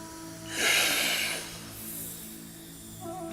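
A single deep inhale during a breathwork exercise, a soft airy rush that swells and fades over about a second in a quiet room, with no speech.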